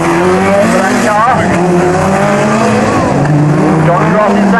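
Race car number 399 spinning out on a Swindon track, loud roaring engines and squealing tires as other cars blast past, with a commentator talking over the noise.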